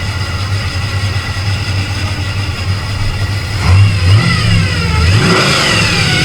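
A Ford Mustang engine idles steadily with a thin, constant gear-drive whine riding above it, then revs up twice in quick bursts before settling, close and fairly loud with no talking.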